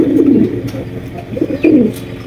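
A male Mundi pigeon coos in two low, throaty rolling phrases, close and fairly loud, with a short pause between them.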